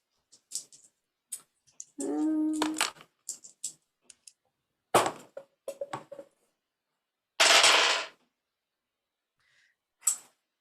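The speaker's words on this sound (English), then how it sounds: "So I'm rolling 3 dice." Three dice rolled during a tabletop role-playing game session in a therapeutic game master program: scattered close clicks and rattles, then a longer dense clatter as the dice tumble and settle, with quiet gaps between.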